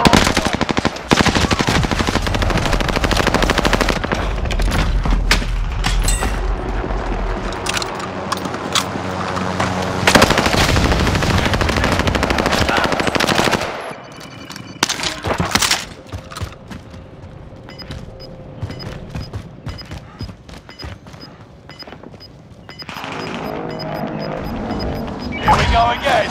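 Gunfire in the Call of Duty: Modern Warfare video game, with loud bursts of automatic fire and single shots in rapid clusters, sometimes dense and sustained, then sparser cracks and mechanical clatter, while a voice talks over the action.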